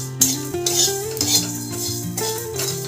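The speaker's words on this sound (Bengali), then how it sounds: "ড্রাই রোস্ট করব।" A spoon knocks and scrapes against a pan as cloves and spices are dry-roasted with a pinch of salt, giving close metallic clatters and ringing tones in quick bursts.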